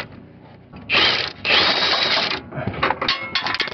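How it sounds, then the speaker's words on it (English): A ratchet with a wobble extension turns on a 14 mm nut at the passenger-side motor mount of a 2008–2012 Toyota RAV4 3.5 AWD, with bursts of close, rapid clicking separated by short pauses. "I'm using kind of like a kind of like a wobble extension here"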